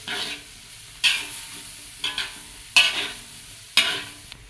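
Food sizzles steadily in a frying pan while a utensil stirs it in repeated scraping strokes, roughly one every second, loud and close with no talking.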